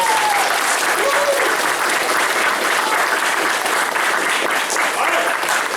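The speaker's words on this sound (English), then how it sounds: "Give them a big round of applause." A crowd at a martial arts sparring session bursts into loud, close applause, a thick continuous clapping with some cheering voices mixed in, holding strong for several seconds.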